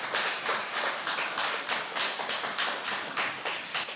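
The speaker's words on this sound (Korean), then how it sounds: "이런데 박수 좀 하시고요." Church congregation clapping during a Sunday worship service, a steady dense patter of many hands at moderate loudness, continuous throughout without a break.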